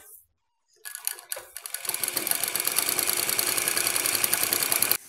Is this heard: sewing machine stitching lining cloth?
yes